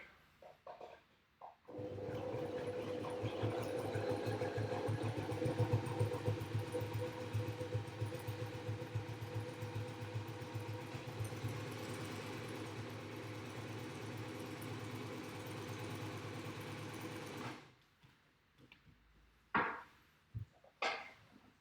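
A sewing machine runs steadily for about fifteen seconds while stitching a quilt, a close, continuous mechanical whir that stops abruptly, followed by a few brief knocks.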